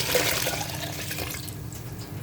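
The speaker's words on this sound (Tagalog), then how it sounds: "Pwede na natin lagyan ng tubig." Water pours into a cooking pot for chicken tinola, a steady splashing, gurgling stream close by that thins out toward the end, with no voices.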